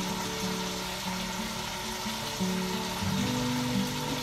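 Steady sizzling and frying of a roast beef browning in a hot pan, a constant crackling hiss with faint low hums running through it.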